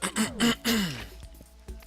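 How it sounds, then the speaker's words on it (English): A person clears their throat in three short, rough bursts, followed by quieter breathy noises, close to the microphone. "I'm gonna clear my throat"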